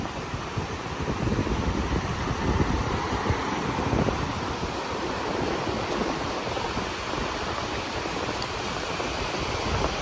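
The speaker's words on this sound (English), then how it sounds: "And it is windy, you can hear the wind." Wind and churning surf on Surfside Beach, a few miles south of Myrtle Beach, ahead of an approaching hurricane, a dense, steady roar of gusts and breaking waves throughout.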